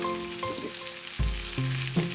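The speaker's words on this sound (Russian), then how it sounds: "Жарится наша рыбка." Fish frying in a pan gives a steady, close sizzle with crackling bursts and a few low thumps of shifting food, all continuous throughout.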